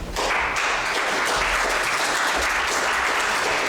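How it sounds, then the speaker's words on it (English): A large conference audience claps loudly and continuously, a dense wash of applause with no voices above it. "can we have a big round of applause"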